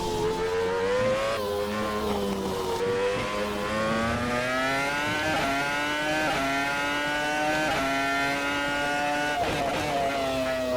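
A Renault R25 Formula 1 car in a racing sim game, its engine screaming loud and continuous for the whole stretch, pitch climbing and dropping with quick gear shifts as it is thrown into corners, with no talk.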